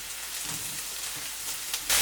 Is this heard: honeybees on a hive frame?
no